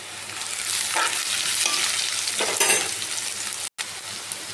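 Spices tempering in hot oil with onions, garlic and turmeric, a loud continuous close sizzle with stirring scrapes and a brief cut near the end.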